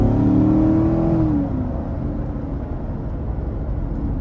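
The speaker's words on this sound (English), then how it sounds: "I'm gonna give it a little throttle out of this corner here." A 2015 Chevrolet Corvette C7 Z51 with the 6.2-litre V8 pulls out of a corner under throttle, a loud engine note rising in pitch for about a second and a half before easing off into a steady rush of road and wind noise.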